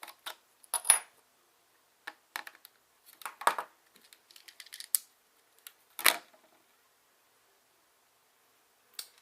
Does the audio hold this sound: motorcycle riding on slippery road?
no